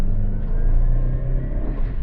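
Great Wall Wingle campervan engine droning steadily from inside the cab while driving, a close, loud low rumble with slight rises in revs.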